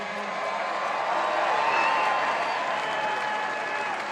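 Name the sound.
fans cheering and applauding for the skipper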